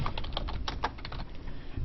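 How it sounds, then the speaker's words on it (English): Typing on a computer keyboard while answering a question, heard as quick, light, close key clicks in an uneven rhythm over faint background noise, with no talking. "For the first answer, I can type below."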